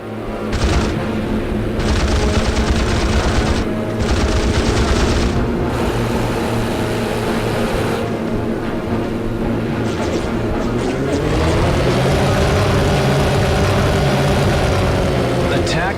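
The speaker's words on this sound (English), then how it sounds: "I'd say we've got heavy bombers inbound over Guadalcanal." Heavy WWII bombers droning over Guadalcanal in a Pacific flight combat game, loud sustained engine roar with bursts of gunfire early and a rising engine pitch later.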